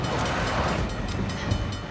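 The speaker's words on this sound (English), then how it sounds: "Train's getting closer!" A train approaches in the video game Uncharted: The Lost Legacy, a loud, steady rolling rumble of wheels and carriages filling the scene with a continuous rattling roar.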